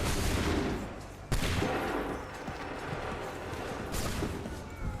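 Musket volleys ring out in an Assassin's Creed 3 battle, a dense crackling fusillade with a sharp loud burst near the start and another swell later, rolling continuously like massed gunfire.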